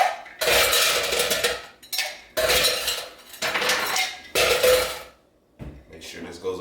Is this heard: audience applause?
no